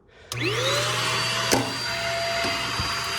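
A Snow Joe ash vacuum starts up with a rising whine and keeps running steadily, loud and close, cleaning a Harman Absolute 63 pellet stove, with a couple of knocks partway through.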